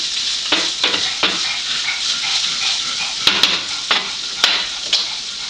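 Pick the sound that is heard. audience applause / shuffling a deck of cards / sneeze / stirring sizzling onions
stirring sizzling onions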